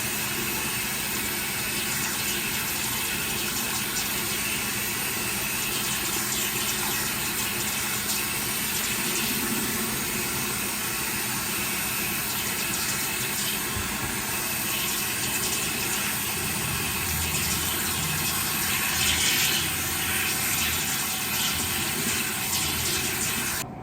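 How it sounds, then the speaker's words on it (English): Water runs continuously in a steady stream, rinsing out a dish after bleaching wig knots, with a constant mechanical hum beneath it. "Just use some warm water and just wash it out, wash the dish out."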